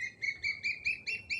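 Small bird chirping close by indoors during a Hindi lesson, a quick rhythmic series of about six bright, high chirps evenly spaced, clear and alone with no talking over it.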